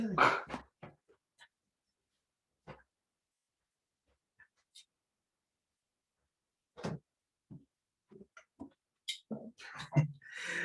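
A pet dog at home gives scattered short barks and whimpers, a few sharp yips at the start and a cluster near the end, separated by near silence.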